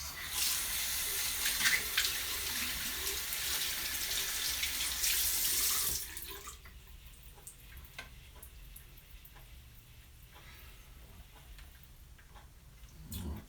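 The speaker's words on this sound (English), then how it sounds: "Let me rinse my hands really quick" Hands rinsed under a running tap: a steady hiss of water for about six seconds, then it stops, leaving faint ticks and small movements.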